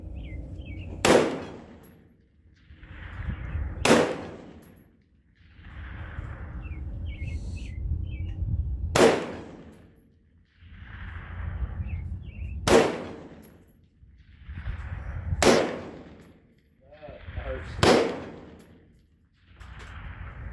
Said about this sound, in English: Your next to last shot, I know I heard steel.